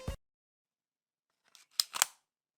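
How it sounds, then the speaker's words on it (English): A prop gun's magazine is pulled out and pushed back in for Foley: a brief click at the start, then after a pause a few sharp mechanical clacks, close and crisp. "take your gun prop, take the magazine out, insert it in, take that sound"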